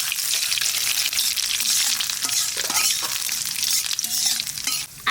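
Cumin seeds and bay leaves crackle in hot oil for a jackfruit curry, a bright, dense, close sizzle that holds steady throughout with a few stirring scrapes, no talk.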